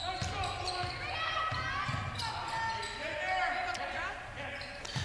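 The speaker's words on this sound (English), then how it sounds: "Ball bounces loose, and Rose will dribble it out of trouble." Basketball dribbled on a gym floor during a girls high school game, repeated bounces amid a noisy crowd, with an announcer talking over the action.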